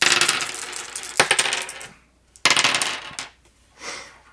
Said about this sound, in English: Everybody rolls their dice.